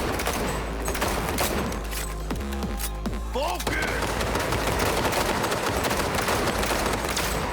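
Sustained automatic gunfire and bursts of shots fill a firefight in the video game Cyberpunk 2077, with dense rapid rattling, occasional heavier thuds and game effects layered throughout, loud and continuous.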